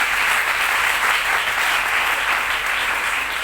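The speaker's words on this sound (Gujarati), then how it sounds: "એટલે એકવાર તાળીઓ બધા શિક્ષકો માટે." A school audience claps for the teachers at a Gujarati mother-language day and Narmad Jayanti celebration, with brisk, dense applause sustained throughout and no voices breaking through.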